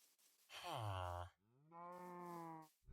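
A cow in the Minecraft video game gives two drawn-out moos in quick succession, loud and close, the first deeper and sliding, the second steadier, with no other sound around them.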